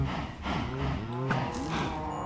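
Minecraft cows moo in several overlapping low, drawn-out calls, close and fairly loud, with no talking.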